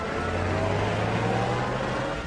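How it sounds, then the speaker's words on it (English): An old car runs out of control, its engine giving off a steady, close, droning hum with a low tonal whine and no clear revving changes. "Our car's running wild."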